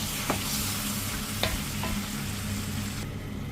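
Marinated meat sautéing in a pan, a loud continuous sizzle broken by a few sharp scrapes and clacks of stirring, the hiss thinning just before the end.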